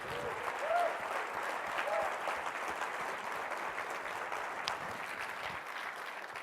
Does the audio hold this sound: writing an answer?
no